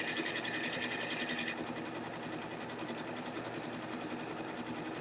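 A sewing machine stitches decorative patterns with variegated thread, a fast even mechanical chatter running continuously at low level, with a brief higher whir near the start and no speech.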